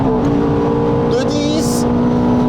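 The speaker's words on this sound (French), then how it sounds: "En mode race, voilà, t'as le rupteur." A Ferrari F430 in race mode holds its engine against the rev limiter, a loud sustained buzzing drone with a steady pitch and brief higher flutters, with no talk.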